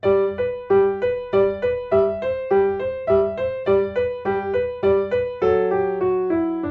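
A piano played slowly with both hands, a bouncing left-hand bass under a simple melody, evenly paced notes ringing clearly on their own; a Sonata in G.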